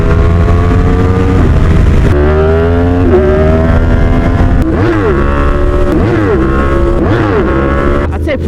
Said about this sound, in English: A pretty big reason is the just the sound of the bike.